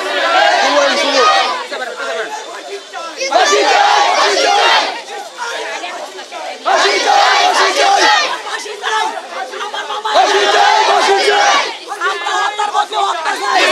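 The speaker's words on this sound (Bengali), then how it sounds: "মানববন্ধন শেষে এলাকাবাসী একটি বিক্ষোভ মিছিল বের করে।" A crowd of local residents on a protest march in Narayanganj, chanting in loud, rhythmic call-and-response bursts, close and continuous, with short pauses between rounds of shouting.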